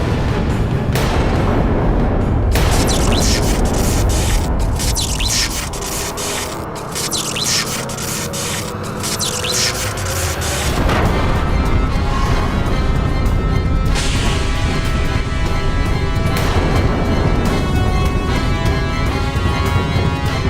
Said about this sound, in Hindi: ये तो दशानंद की गदा की ध्वनि थी स्वामी।